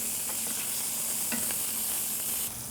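Breakfast sausage fries in a skillet with a steady, hissing sizzle of rendering fat, broken by a few soft clicks and taps, with no talking over it.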